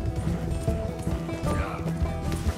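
Horse hooves clopping at a gallop in the video game Red Dead Redemption 2, a quick repeated rhythm under steady talking, with a brief whinny-like tone mixed in.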